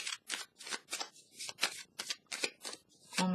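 Tarot cards are shuffled and drawn in quick repeated riffling bursts, crisp papery flicks close by in an even rhythm, ending with a card laid down.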